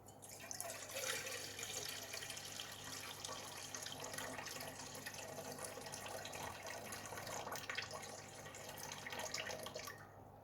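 Lukewarm water pours steadily into a kneading bowl at the start of making Neapolitan pizza dough, a continuous close splashing and trickling stream lasting about ten seconds with no talk.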